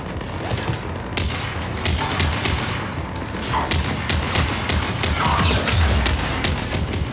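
Gunfire and mechanical clatter from the video game Mass Effect 3 during an assault on Omega, with repeated sharp crackling shots and metallic clicks over a steady battle din.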